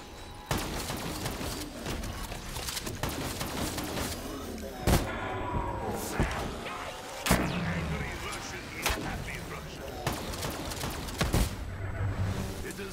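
A KRM shotgun fires repeatedly at a Panzer in Black Ops 3 Zombies, with sharp blasts at irregular intervals over constant game noise and a player talking.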